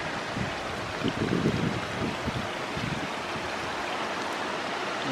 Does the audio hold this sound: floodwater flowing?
yes